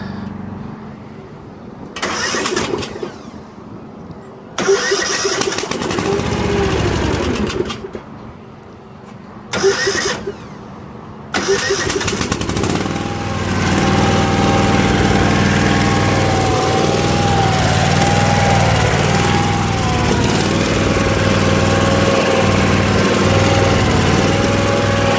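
A riding lawn mower engine cranks in several short bursts with pauses between, then catches and settles into a steady, loud running idle with a warbling tone.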